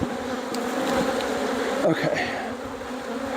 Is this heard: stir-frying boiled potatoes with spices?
no